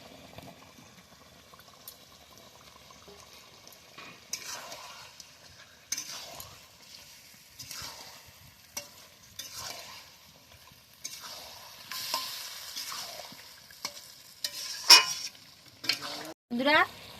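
Fried potato pieces being stirred in a pan with chui (chui jhal chilli stem) for a chicken curry, giving light scraping and sizzling touches that grow louder toward the end, with faint background noise between strokes.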